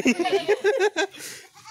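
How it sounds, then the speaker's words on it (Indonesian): Young Javanese goat kids bleat on a village farm, a rapid run of close, loud wavering cries, with faint chuckling and other voices in the background. "ya sedang ini anakan kambing"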